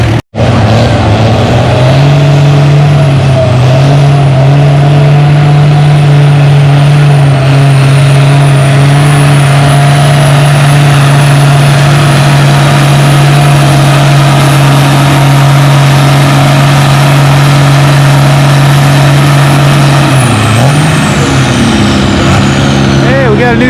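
A pulling tractor at a tractor pull roars steadily at full throttle, loud and sustained with a droning low tone, dipping briefly near the end before resuming.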